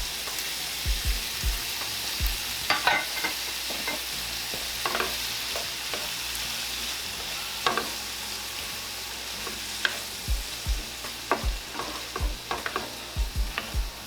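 Crawfish sizzling and frying in a hot pan for seafood garlic bread, with repeated knocks and scrapes of stirring against the pan over a continuous loud hiss.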